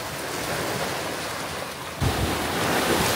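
Surf washes onto a hidden beach tucked among rocks on Negros, a broad roaring wash with wind buffeting close to the microphone, swelling louder partway through.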